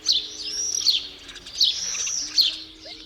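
A starling mimics a house sparrow's call, giving four bright chirping notes in a loose rhythm, fairly faint and alone against a low steady background hum.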